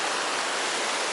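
Sea water washing at the shore, a steady broadband hiss of surf that stays constant and fairly close for the whole moment, with no voices over it.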